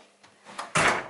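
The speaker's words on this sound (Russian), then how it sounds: "Дверь не закрывается." A door in a holiday guest room in Andreevka, Primorye that will not close, heard as a faint shuffle followed by a sharp, loud close-range knock and rattle near the end.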